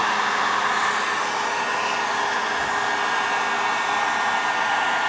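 A heat gun blows hot air along the edges of a vinyl-wrapped faux mirror cap, a steady, close, unbroken whoosh of airflow with no voices.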